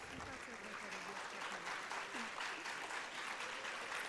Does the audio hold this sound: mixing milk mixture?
no